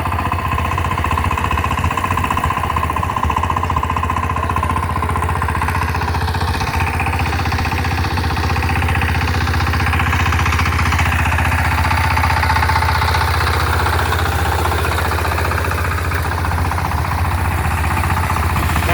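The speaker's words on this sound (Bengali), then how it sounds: "ইঞ্জিনের সাউন্ডটা মাসাল্লাহ খুব সুন্দর" A DF power tiller engine runs steadily and loudly throughout, a close, continuous mechanical chugging with no talk over it.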